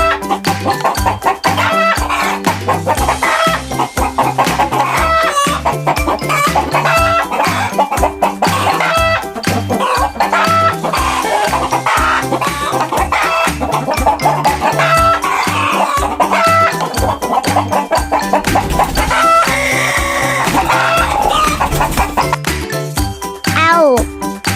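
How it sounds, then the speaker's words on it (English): A chicken clucks and a rooster crows repeatedly over a loud, rhythmic backing of cheerful music, the bird calls standing out clearly and close. "Chicken. Chicken."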